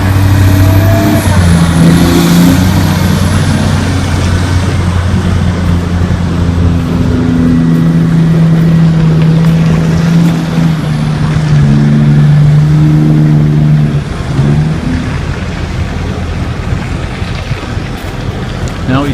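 A loaded heavy equipment loader climbs a hill, its engine a steady low droning growl with wind buffeting the microphone throughout, fairly loud and continuous, easing slightly toward the end.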